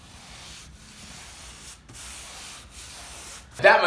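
Spray paint cans hiss in short, repeated bursts as office walls and corners are painted, soft and close with brief pauses between strokes and a sharper rattle or clatter at the end.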